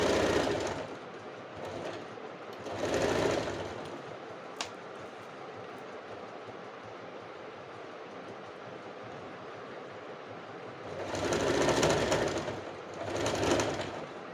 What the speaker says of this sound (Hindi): अब ये हम शोल्डर के पास से अगेन दूसरी साइड के हाफ पोर्शन पे स्टिचिंग करेंगे।